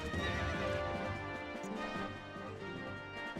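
Horse neighing and clip-clopping hooves in The Legend of Zelda: Twilight Princess HD, a close, steady stream of hoofbeats with a whinny over dense game sound, no talk.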